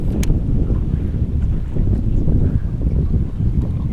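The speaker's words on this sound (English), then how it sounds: "It's also very windy now" Strong wind on open water while fishing from a boat, a steady loud low roar of gusts buffeting the microphone with faint water movement underneath, continuous throughout.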